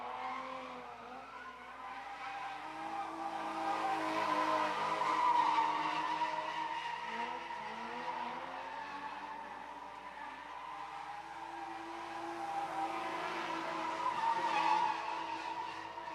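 BMW cars drifting at a motorsports track, tires squealing in a long, sustained skid with engine noise rising and falling throughout, fairly loud and continuous, with no talk.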